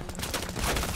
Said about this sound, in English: Pulling my pistol out